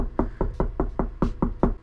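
A hand knocking to imitate knocks on a door: about eight quick, evenly spaced raps, close and fairly loud, with no talking.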